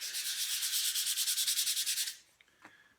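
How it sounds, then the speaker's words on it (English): Sandpaper rubs back and forth across an end grain wooden cutting board in quick, even strokes, about fifteen rhythmic passes, close and clear, then stops with a couple of light taps. "You will get some buildup on your sandpaper really quick"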